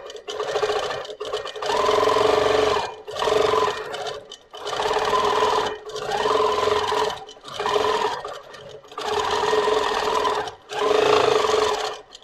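A Moxie XL longarm quilting machine stitching in repeated loud, steady whirring runs of one to two seconds each, separated by brief pauses, with no talk.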